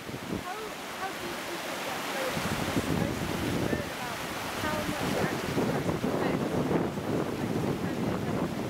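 Sediment-rich lahar mudflow rushing down the Belham Valley with pulsing standing waves, a loud continuous broadband roar with wind buffeting the microphone and swelling surges throughout.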